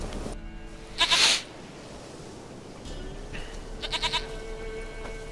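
A goat in The Witcher 3 video game lets out a short, loud bleat near the start, then a quicker wavering bleat a few seconds later over a low, steady ambient game background.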